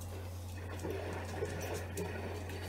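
A washing machine running its spin cycle makes a steady, even hum with a constant low drone and faint rattling, unbroken throughout.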